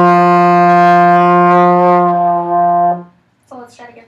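Trombone sustaining a single F with the slide in first position, a steady brassy tone held for about three seconds before fading, followed by a brief spoken remark.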